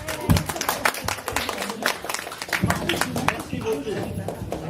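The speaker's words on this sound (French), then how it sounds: "On applaudit pour la première fois que vous les voyez." A theater audience at a live stage performance claps in a burst of close, dense applause that continues for a few seconds while a voice speaks over it.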